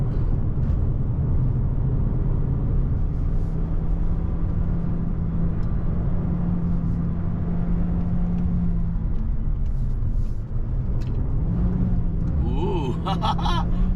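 A VW Golf 8 TSi with an 8-speed automatic climbs a hill, its engine droning steadily, then the pitch drops as it shifts up near the end. A voice talks over the engine.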